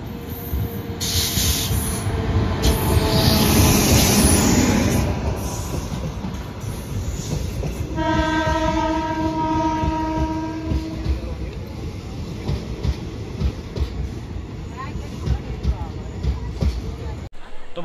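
The Barbil Jan Shatabdi Express rolls into a station with a loud, continuous rumble of wheels and carriages, a sustained horn blast in the middle and crowd noise around it.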